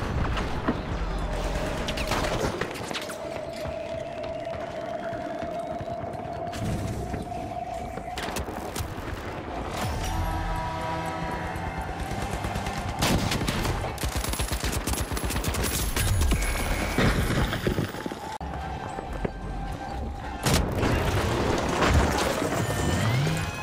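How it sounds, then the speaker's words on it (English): Grenade launcher fire in a shooter game, heard as repeated booming shots and rapid gunfire bursts throughout, loud and close, amid continuous battle noise. "Grenade launcher, takut gua."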